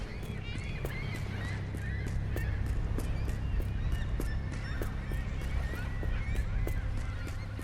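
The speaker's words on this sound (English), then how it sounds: "That's a lot of birds." A large flock of birds honks continuously in the indie horror game The Lightkeeper, with dense goose-like calls overlapping steadily throughout and no talk.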